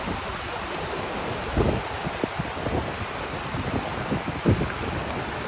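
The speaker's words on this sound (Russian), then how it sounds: "И горная река." A mountain river in the high Charodinsky district rushes in a broad, steady hiss, with wind buffeting the microphone and a few soft knocks nearby.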